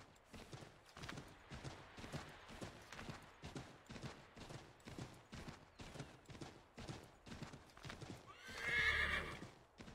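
Horse in Assassin's Creed 3 gallops with steady rhythmic hoofbeats throughout, ending in a loud, close neigh.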